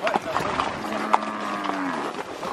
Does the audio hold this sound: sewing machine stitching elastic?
no